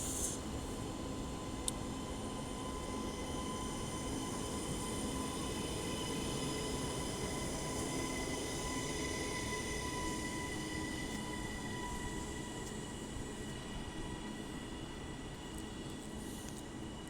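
A Northern train stands at the platform at Manchester Airport station, giving a steady, close mechanical hum and drone with a faint high whine running through it. The sound stays even for the whole stretch, with no voices.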